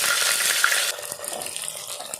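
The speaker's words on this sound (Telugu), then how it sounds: "ఇప్పుడు దొండకాయ ముక్కలు కూడా వేసేస్తున్నాను చూడండి." Ivy gourd pieces drop into hot oil with fenugreek seeds, setting off a loud, dense sizzle that drops sharply after a second, then continues as a quieter crackle with small pops and stirring clinks.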